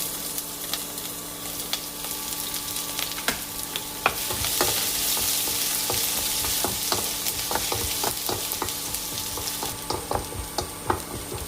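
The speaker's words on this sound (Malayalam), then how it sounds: "വെളിച്ചെണ്ണ ചൂടായി അതിലേക്ക് അരിഞ്ഞ് വെച്ചിരിക്കുന്ന വെളുത്തുള്ളി ഇഞ്ചിയും ചേർക്കാം." Chopped garlic and ginger fry in hot coconut oil with a bright, crackling sizzle. A utensil stirs and taps against the pan in frequent sharp clicks, and the hiss swells strongly partway through.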